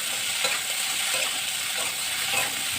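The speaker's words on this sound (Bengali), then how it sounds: "তারপরে ভালোভাবে আবার মিশিয়ে নেব," Ridge gourd pieces with turmeric and salt fry in a pan for an aloo posto dish, giving an even, dense sizzle with soft stirring movements throughout, close and uninterrupted by voices.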